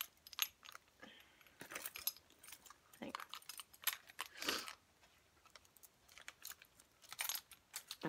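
Keys on a lanyard jangle and clink in a series of short metallic bursts as they are handled and taken off, close and fairly quiet, with small pauses between rattles.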